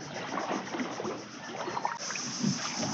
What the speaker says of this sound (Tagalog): Ito na yung bangka namin, sasakyan.